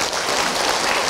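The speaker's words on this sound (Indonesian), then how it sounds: "lagi tepuk tangan ibu untuk Abi" A women's audience at an Islamic religious talk applauds, a dense, steady wash of many hands clapping together, loud and continuous with no speech.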